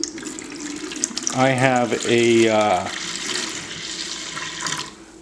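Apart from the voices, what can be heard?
pouring pomegranate juice into a carboy for mead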